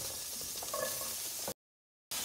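Zucchini frying in oil in a pan, a steady soft sizzle running continuously, then cut off abruptly by a brief stretch of silence before the sizzle returns.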